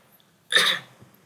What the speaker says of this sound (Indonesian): Sorry kalau gue agak batuk, sorry ya.